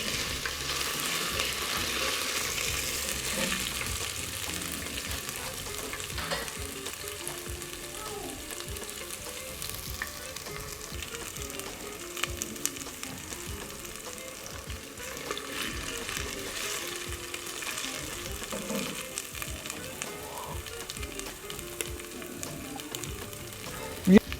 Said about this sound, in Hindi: इसमें 1 से 2 खाने के चम्मच अदरक और लहसुन पेस्ट शामिल करते हैं। इसको तकरीबन 1 मिनट तक फ्राई करें।